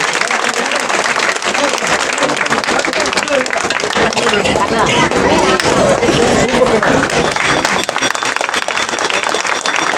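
A crowd claps continuously at a staged devotional drama performance, the busy, uneven applause holding steady and fairly loud throughout, with faint voices mixed in.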